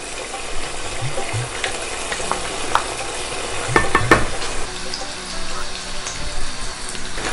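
Chicken and bitter gourd curry with yogurt being stirred in a pan, with a steady wet simmering hiss, spoon scrapes and a few metallic clinks near the middle, and faint talk underneath.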